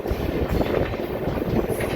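An express train rolls onto Pamban Bridge at low speed, its loud steady rumble carrying a rhythmic clatter of wheels over the rails heard from inside the carriage.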